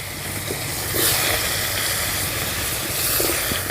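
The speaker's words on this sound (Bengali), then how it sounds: "এবারে আমি প্রথমে আলুগুলো ভেজে নেব" Potatoes frying in a pan of hot oil, a loud dense hissing sizzle that stays steady throughout, heard close with no speech.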